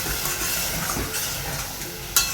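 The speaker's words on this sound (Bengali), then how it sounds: "এবার একবারে দিয়ে দিচ্ছি জল, এটা একটু মাখা মাখা করবো" Water poured all at once into a hot pan of food, then stirred into a thick mixture, a steady loud sizzle and hiss with scraping stirring throughout and one sharp clink of utensil against the pan near the end.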